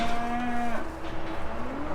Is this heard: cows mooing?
yes